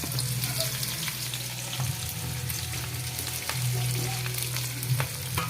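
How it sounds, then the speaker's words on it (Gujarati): Chopped okra and garlic fry in a pan with a continuous close sizzle, overlaid by a low steady hum and occasional light clicks of stirring, fairly loud throughout. "હવે સાથે જ હું તેમાં ભીંડા સુધારેલા નાખીશ"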